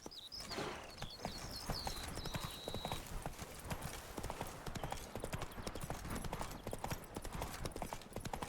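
Roach, Geralt's horse in The Witcher 3, gallops in a steady rapid clip-clop of hooves, with a brief whinny near the start, continuous and fairly close.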